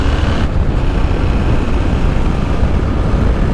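Motorcycle engine picked up by a helmet-mounted lavalier mic under a wind muffler on a GoPro Hero 7 Black during a road ride, a steady dense low rumble with wind noise that runs unbroken throughout.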